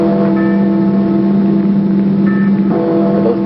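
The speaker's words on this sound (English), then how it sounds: "Are those fire bells, sir?" Fire bells ringing in colonial Boston, heard as faint tolling bell tones that rise intermittently from a loud, steady, rumbling background.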